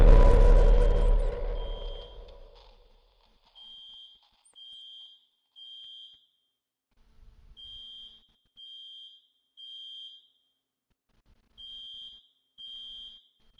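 An alarm in the Daymare 1998 video game beeps in evenly spaced pairs and triplets of high, clean electronic tones after a fading rumble, with short silent gaps between groups.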